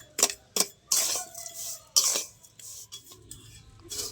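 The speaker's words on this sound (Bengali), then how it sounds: "আমি নুনটা ভালো করে নেড়ে চেড়ে গরম করে নিয়েছি" Salt being stirred while it heats in a pan for making puffed rice gives sharp scraping clinks and gritty rasps, a few distinct strokes at close range with quiet gaps in between.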